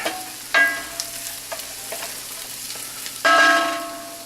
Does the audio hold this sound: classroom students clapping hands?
no